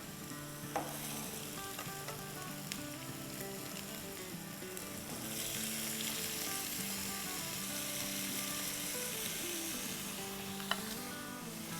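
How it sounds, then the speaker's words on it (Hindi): Diced, peeled potatoes frying with onions in a pan, a steady close sizzle with occasional stirring scrapes, getting a little louder midway. "और इसे अब हम अच्छे से फ्राई करेंगे।"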